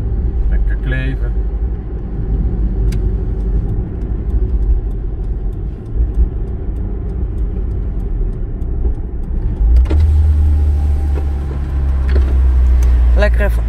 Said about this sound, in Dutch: alle ramen open jongens, helemaal goed